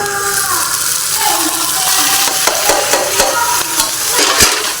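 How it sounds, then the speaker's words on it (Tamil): Vegetables being stirred and sautéed in a pan during Tamil home cooking for tomato rice, a steady close sizzle with spoon scrapes and light clinks throughout. "இதையும் நல்லா வதக்கிக்கலாம் எல்லாம் நல்லா வதங்கிடுச்சு"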